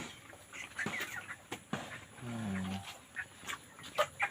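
Chickens clucking and calling in a rural poultry setting, a few short scattered calls with one longer, lower vocal burst midway, fairly faint against light background noise.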